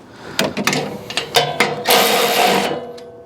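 Cover bolts on an Ariens Path Pro 208cc single-stage snow blower being snugged down with a power driver: a few short clicking bursts, then a steady close-up whirring run lasting under a second.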